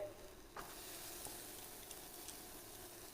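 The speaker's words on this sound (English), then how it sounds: "Oh yes, I've got my sizzle on. In goes the onion." Garlic and onion sizzle steadily in a hot pan, a continuous crackling hiss with a brief stir near the start.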